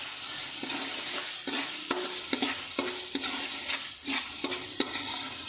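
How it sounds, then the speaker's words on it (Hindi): Ginger garlic paste fries in a pan while a spoon stirs it, giving a steady close sizzle broken by regular scraping strokes about every half second. "इसको आपने अच्छा सा हिलाना है।"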